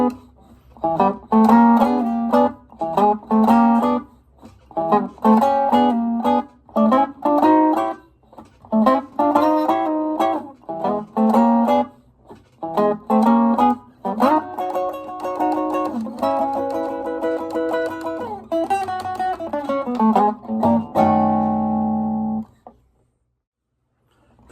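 A complete Chicago blues verse on electric guitar, with repeated choppy picked phrases and chord stabs that build into sustained ringing chords and end on a held chord before falling silent.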